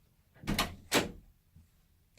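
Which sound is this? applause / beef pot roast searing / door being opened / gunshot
door being opened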